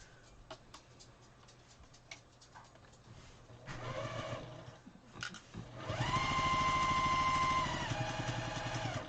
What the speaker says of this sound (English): So I'm going to go ahead and sew this, and then I'll flip it over and sew that.